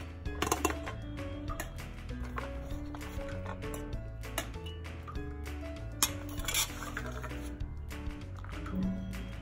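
Green chilli, ginger and garlic being coarsely pounded in a kitchen while cooking vegetable masala Maggi pakoda; repeated clinking thuds in a steady rhythm over continuous background music.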